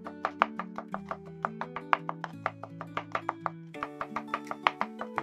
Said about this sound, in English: Crush then chop between 5 to 10 garlic cloves depending on your taste and the size of the cloves